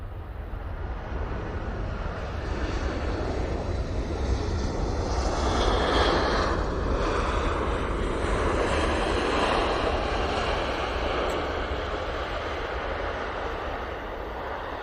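An Airbus A319 airliner arriving from Malaga roars past at close range, a steady broadband engine rush that swells and holds through the middle and then eases slightly, with wind noise and no talk.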